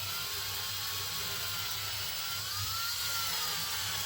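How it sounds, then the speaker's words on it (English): A drill bores into an antler knife handle, a steady, faint, continuous whir with a low hum underneath and no pauses. "I'm just going to drill."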